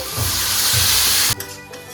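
Boiled chana dal and potatoes are stirred into fried spices and chopped chilli, giving a loud steady hiss with soft rhythmic stirring thumps that cut off abruptly to a quieter simmer.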